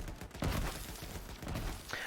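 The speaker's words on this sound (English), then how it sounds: "Now the Freeman has this ability to shoot rockets quite fast" Freeman rocket launcher in Borderlands 3 firing in quick succession: a dense run of booming thumps and rushing blasts packed close together, loud and continuous across the moment with no voice over it.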